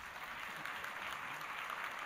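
A church congregation applauds during a Sunday worship service, steady dense clapping filling the room for a couple of seconds with no voices over it.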